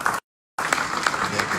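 Applause from an audience for students after a forum in a high school cafeteria, a steady wash of clapping that cuts out briefly and then resumes, with some voices mixed in.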